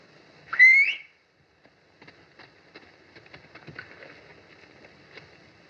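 A person gives one short, rising whistle to call a horse, clear and close, followed by quiet scattered patters and light movement sounds.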